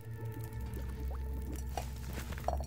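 Water poured in a survival video game, a short gurgling splash with light liquid squishes and drips over a low steady game hum.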